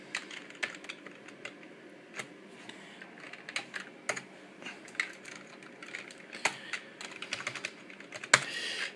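Computer keys clack in an irregular run of close, light taps, some louder strokes standing out, while a Packard Bell Legend multimedia PC is being restored.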